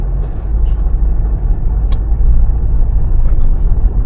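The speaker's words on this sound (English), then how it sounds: "start your vehicle, and put it in the drive" A car pulls away from a stop, its low engine and road rumble heard steadily from inside the cabin, loud and close, with no one talking.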